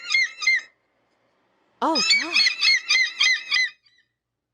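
A person imitating a seagull call: short squawking cries, then a longer run of rhythmic, laughing squawks, loud and close, with a brief spoken exclamation in between.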